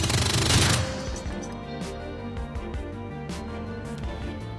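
Video game gunfire crackles in a dense burst at the start, then quieter repeated shots and game music continue in the background.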